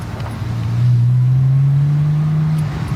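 Porsche Boxster sports car accelerating hard, a loud, steady engine drone that swells after the first second and holds strongly before easing near the end, with no talking.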